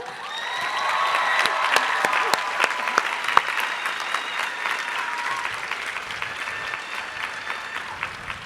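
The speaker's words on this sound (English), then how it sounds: "Another round of applause" A crowd at a college commencement ceremony claps steadily for several seconds with a few sharp louder claps and faint cheering mixed in, slowly tapering.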